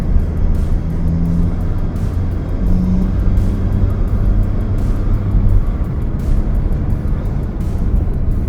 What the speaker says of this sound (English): you can hear the turbo spooling up a little bit.